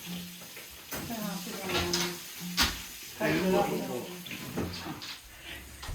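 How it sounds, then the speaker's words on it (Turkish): Steady frying sizzle from salmon in a pan, with occasional clatter and stirring, and voices talking over it. "Burada kızarmaya devam ediyor."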